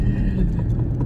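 Steady low road rumble and tyre hum inside a moving Tata Punch automatic car, a continuous dull drone filling the cabin at moderate level with no distinct events.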